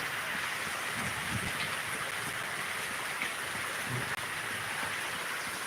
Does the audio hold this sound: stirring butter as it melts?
no